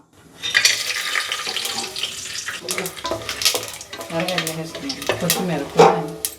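Whole spices such as bay leaf, cinnamon, cloves, cardamom, star anise and stone flower hit hot oil for a blue biryani, crackling and sizzling with stirring and clinks, loud bursts rising and falling.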